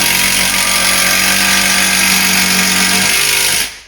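A power tool drives screws into a stair header during a renovation, giving one steady close buzzing whine for about three and a half seconds before it cuts off abruptly.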